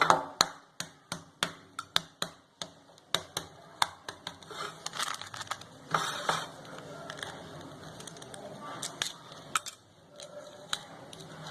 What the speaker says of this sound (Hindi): अभी मैं गिनी फ्लो का अंडा छीलने लगा हूँ।